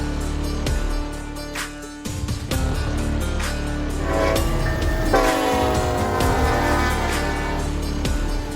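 Model trains run on a home layout, with steady rolling rumble and clatter punctuated by repeated blasts of a horn, loud and close throughout.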